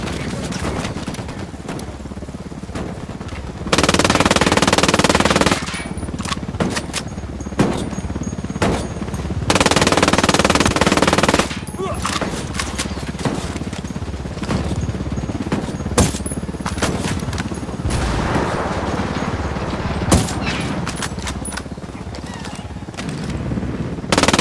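Gunfire in the video game Ghost Recon Wildlands, with repeated machine-gun bursts and scattered shots over a busy battle din, some bursts loud and close, continuing across a long stretch with occasional faint voices underneath.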